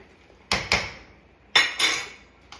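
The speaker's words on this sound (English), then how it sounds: "And mix that all up pretty good." Metal utensil clanks against a pot while seasoned Creole food is stirred: four sharp close knocks in two pairs, then a softer fifth tap, each with a short ringing decay.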